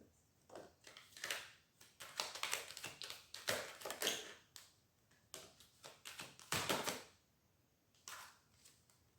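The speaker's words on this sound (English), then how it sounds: "Being called to shuffle this deck for you" A deck of tarot cards being shuffled by hand in close, soft bursts of riffling and tapping, with short pauses between rounds and no talk.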